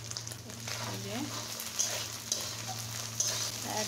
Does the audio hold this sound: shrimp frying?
yes